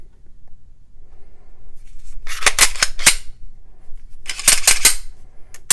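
A CZ P10-F pistol slide is reassembled onto the frame rails, giving two clusters of sharp metallic clicks and scrapes, close and crisp, against a quiet background.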